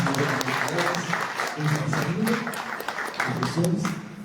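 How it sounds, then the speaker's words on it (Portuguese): A church congregation claps for the children during a Sunday morning service, with a dense round of applause and voices talking and calling out over it. "Salve de palmas às crianças."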